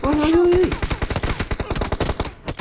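Rapid bursts of VSS rifle fire in a video game crack out in a fast, steady rhythm for over two seconds, loud and close, with a brief rising tone near the start.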